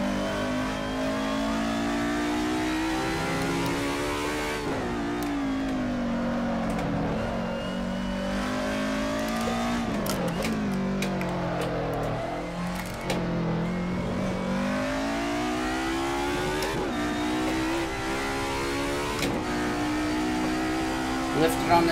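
A 90s DTM Mercedes 190 race car engine at full throttle around Barcelona in a sim racing game, loud continuous droning revs rising and falling through gear shifts, close and unbroken.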